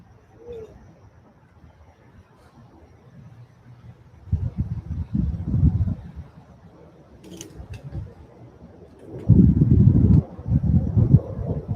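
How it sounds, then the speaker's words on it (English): Wind buffets a microphone outdoors in low rumbling gusts that swell loudly in two bursts, with faint background sounds and little else audible. "It's just windy, so."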